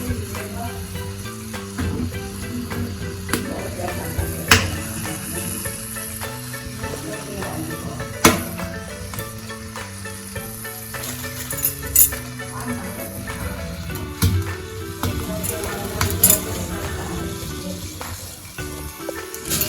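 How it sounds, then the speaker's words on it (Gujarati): Red chilies roast directly over an open gas flame, giving a continuous hiss and crackle with occasional sharp clicks and clinks over a low steady hum. "મારી આગળ નથી એટલે હું આ રીતના જ ગેસ ઉપર શેકીશ."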